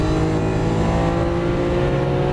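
A Lamborghini Aventador LP700-4 accelerates on a Las Vegas track, its engine producing a loud, sustained, steady roar that stays close and continuous for the whole stretch, with no voices over it.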